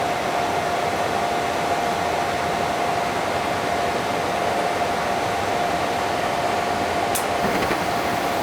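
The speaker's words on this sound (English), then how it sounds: "We'll do it a couple of times, make sure she fires." A gas furnace burner fires with a loud, continuous roar of flame and air, and a steady tone hums underneath throughout, with no talking.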